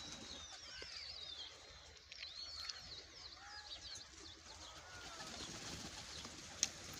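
Pigeons coo softly and flutter close by amid a chorus of faint chirping birds, with occasional wing flaps.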